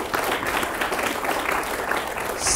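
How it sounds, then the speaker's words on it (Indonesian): An audience applauds at a literary criticism competition final, a dense, steady wash of clapping holding evenly throughout without a break. "Tepuk tangan lagi untuk kita semua"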